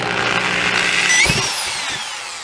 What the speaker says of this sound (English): Use a hole saw and drill a hole into the console.